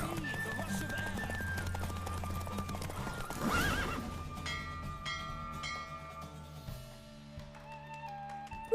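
A galloping horse in the video game The Witcher 3: Wild Hunt, with steady hoofbeats and a whinny partway through, over a low game soundtrack.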